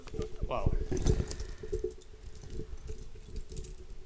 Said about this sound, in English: And we got the keys right here.